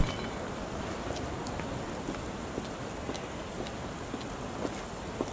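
Steady rain falling outdoors on a London street beside an improvised flower stand, a continuous close hiss with scattered drips and small splashes throughout.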